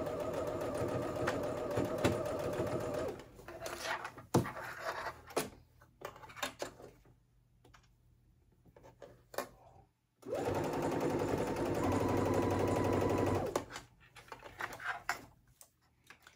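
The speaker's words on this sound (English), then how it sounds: "stitch those two pieces of fabric together" A sewing machine stitches two pieces of fabric together for a tank dress, running in a fast steady whir for a few seconds, pausing with small handling clicks, then running again in a long even burst.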